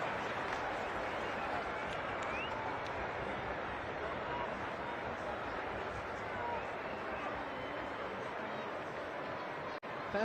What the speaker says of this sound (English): Even the Manchester United fans are applauding.